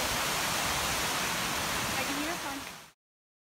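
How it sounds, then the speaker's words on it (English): A waterfall near Snowgrass Flats roars in a dense, steady rush of falling water, loud and close, with a faint voice under it before it cuts off abruptly. "If you come around this corner and get this waterfall, it's incredible."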